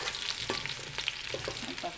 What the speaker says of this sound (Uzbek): Aralashtiramiz.